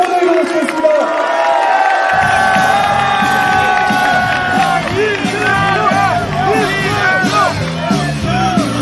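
A large political rally crowd roars and cheers loudly and continuously, with whoops and shouts rising over a dense wall of voices.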